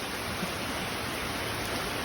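Steady rain pours down while children bathe in it outdoors, a dense even hiss filling the whole stretch without pause, with no clear voices above it.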